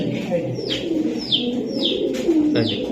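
Racing pigeons coo softly in short repeated calls, with light chirps and a steady background hum.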